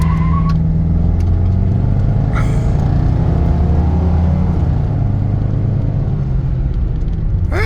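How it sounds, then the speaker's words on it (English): A 1988 Ford LTD Country Squire station wagon with an open differential launches from a dead stop into a single-wheel burnout, its engine roaring loud and steady up close with tire squeal rising above the rumble. "she'll do a burnout. Not bad, single wheel peel"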